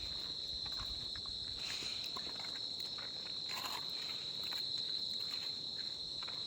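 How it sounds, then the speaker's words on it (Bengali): Crickets chirp at night in the hills of Daragaon: a steady, shrill, unbroken trill close by, with faint rustling and no voices. "চারিদিকে ঝিঝি পোকার ডাক।"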